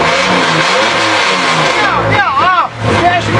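A Chevrolet Opala's 4.9-litre six-cylinder engine revs hard and loud nearby with a raspy, sustained roar that briefly dips and climbs again, while a voice speaks over it.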